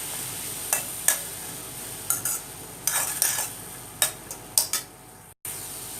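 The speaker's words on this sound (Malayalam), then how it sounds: "ഇളക്കി കൊടുക്കുക." Sweet corn tossed with chili powder and pepper powder is stirred with a spoon in a pan, giving irregular close scrapes and clinks over a faint background hiss, ending in a brief pause.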